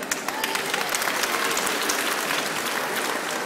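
Steady, dense applause from a cinema audience at an animal show, greeting a 17-year-old male Bengal tiger; many hands clap evenly throughout at close range, with no voices standing out.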